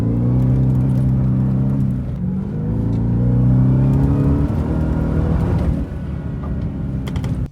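A supercharged 2025 Ford Raptor R pickup with a 720 hp engine runs over a dirt off-road track with jumps, its loud engine droning steadily, dipping briefly and then surging again as it climbs and revs, with no voices.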